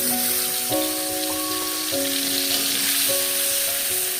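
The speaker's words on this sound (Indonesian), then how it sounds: "Kita tumis bumbu." Shallots, garlic and pepper sizzle in hot oil in a pan for a chicken feet soup, a steady close frying hiss running the whole time with no talk.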